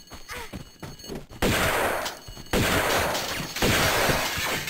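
Shotgun blasts aimed at guards in Tomb Raider 2 Remastered, several loud booming shots starting partway through, each followed by a ringing, noisy tail.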